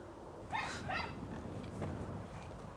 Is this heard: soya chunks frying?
no